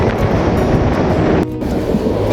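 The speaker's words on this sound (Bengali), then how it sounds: "আমাদের ট্রেনটি কিন্তু বিশাল ব্রিজের মধ্যে দিয়ে যাচ্ছে" The Rangpur Express train roars across a large bridge, a loud continuous rumble with rushing wind, dipping briefly midway and then carrying on.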